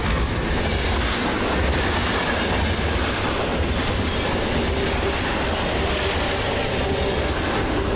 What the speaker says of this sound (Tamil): ஒரு டேங்கர் ட்ரெயின், அதுவும் ஃபுல்லா ஹைலி இன்ஃப்ளேமபிள் ஆயிலோட டிரைவர் இல்லாம வேகமா வந்துகிட்டு இருக்கு.